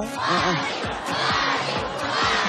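A crowd of fans at a live variety show yells and cheers in a loud, continuous roar with rhythmic shouted chanting throughout.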